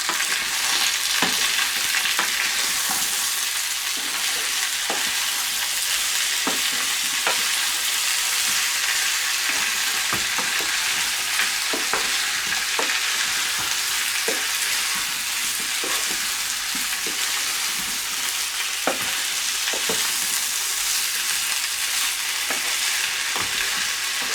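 Peas with spices and salt sizzle steadily in a hot pan while a utensil stirs them, scraping and tapping at irregular intervals, close and continuous with no voices.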